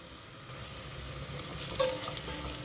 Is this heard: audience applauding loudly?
no